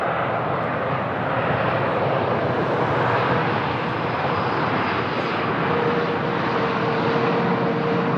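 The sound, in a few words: aircraft touching down at Lisbon Airport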